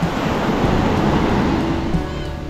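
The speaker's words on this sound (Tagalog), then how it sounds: "Malabo po ang tubig at malakas ang alon." Rough sea waves with murky water and strong surf, a loud continuous roar of crashing and churning water close by, with wind buffeting the microphone and no talk.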